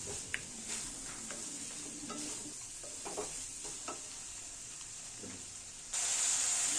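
Soybean curry with chicken masala sautéing in a pan, a soft continuous sizzle with scraping stir strokes, close and fairly quiet, the hiss swelling louder near the end.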